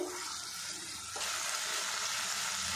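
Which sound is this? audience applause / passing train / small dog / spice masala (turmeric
spice masala (turmeric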